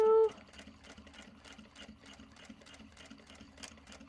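A sewing machine runs in steady, even stitching bursts after a brief initial tone, sounding moderately close and continuous with no talk over it.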